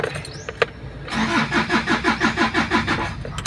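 An Isuzu 4JG2 diesel engine cranks without starting, a steady rhythmic churning of starter-motor pulses about twice a second after a brief click, close and fairly loud, with no catch or rev.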